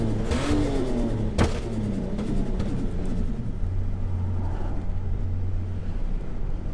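From inside the cabin, the engine of a Ford Falcon AU turbo ute drones loudly and rises in a rev, with one sharp pop partway through.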